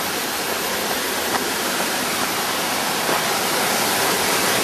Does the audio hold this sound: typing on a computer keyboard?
no